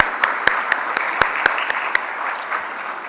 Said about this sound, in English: Can we get one last round of applause for Brittany?